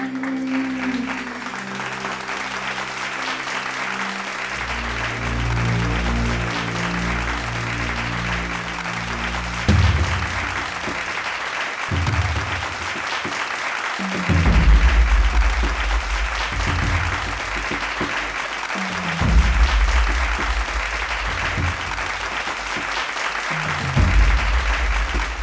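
Applause from a studio audience at a singing competition on a TV set, rising in several bursts over steady background music, with a voice speaking briefly in between.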